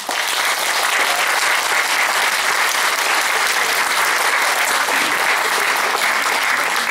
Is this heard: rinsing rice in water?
no